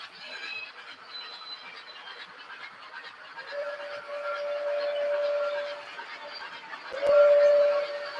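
A model Alco locomotive on a layout sounds two drawn-out horn blasts over a low, faint rumble of running, the second blast louder and closer.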